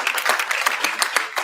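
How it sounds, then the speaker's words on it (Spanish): Church congregation applauding during a Spanish-language sermon: dense, steady clapping from many hands, close and fairly loud, filling the short moment without speech. "Den un aplauso fuerte al Señor."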